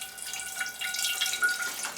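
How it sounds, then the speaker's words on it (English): Water pours steadily onto the soil of a freshly repotted Sarracenia pitcher plant, a close, continuous splashing trickle like a running tap that soaks in without pause. "Now I'm going to see what happens when I pour water on this."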